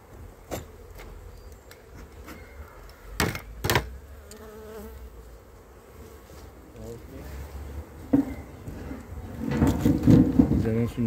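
Honeybees at an apiary hive of a six-frame colony make a low buzzing hum under a person talking, with knocks and clunks of frames and hive parts being handled, and the buzz grows denser toward the end.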